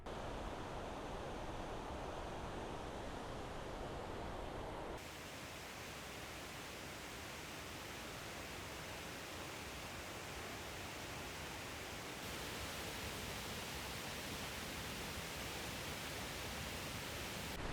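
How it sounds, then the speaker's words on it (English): A powerful waterfall in Geiranger, Norway, roars as a steady, dense wash of rushing water, continuous and even throughout, with no voices over it. "Many of the waterfalls in Norway are really powerful."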